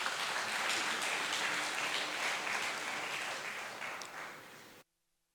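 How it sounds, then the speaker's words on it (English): An audience at a PPP infrastructure summit applauds the President in a dense, steady round of clapping that gradually thins and softens before cutting off abruptly, with no talking. "I think the President deserves a round of applause for that"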